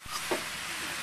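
Pumpkin and pork frying in a pan for an Assamese curry, a steady soft sizzling hiss over one brief second with a faint clink near the start.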